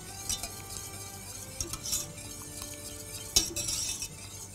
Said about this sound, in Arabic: أقلبهم على النار لحد ما يغلوا.